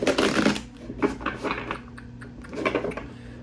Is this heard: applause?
no